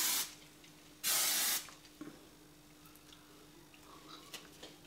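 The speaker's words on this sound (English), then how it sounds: "You can also always spray a bit of hairspray underneath your" Hairspray hisses from an aerosol can onto curled short fine hair in two close bursts, a brief one and then a longer spray, followed by faint ticks and small handling noises.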